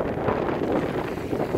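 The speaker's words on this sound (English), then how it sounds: "these gusts of wind are just too much" Strong wind gusts buffet a reefed sailboat on Lake Superior, a steady low roaring rush of wind across the microphone, loud and unbroken for the whole moment with no speech.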